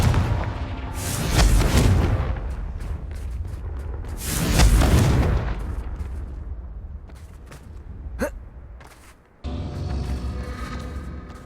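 A fiery Confringo spell detonates in Hogwarts Legacy, with two loud booming blasts a few seconds apart, each rolling into a long rumbling decay, then a brief sharp zap and a burst of crackling noise.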